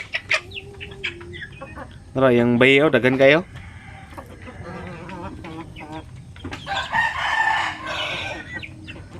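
A Basilan rooster crows loudly nearby, then clucks and calls again, while people talk in the background before and after.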